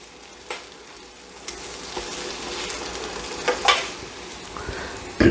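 Steak sizzles in a pan of oil and butter with garlic, a steady, close crackling hiss dotted with sharper pops and spits, with no talking.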